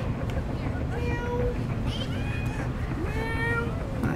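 A cat meows repeatedly in a series of short, rising and falling cries spaced across a few seconds, over a steady low background hum.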